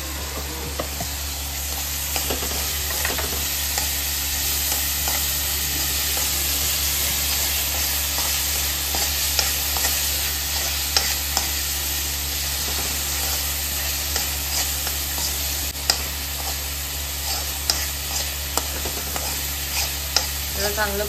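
Ginger paste stir-fried in oil for schezwan chutney gives a steady close sizzle with scraping stirs and small clicks of the utensil across the pan, continuous for the whole stretch with no talking.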